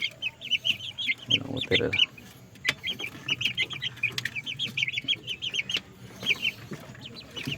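Shamo chickens in a second breeding batch on a farm, clucking and chirping in repeated bursts close by, with a brief low rustle and some background noise and a few spoken words.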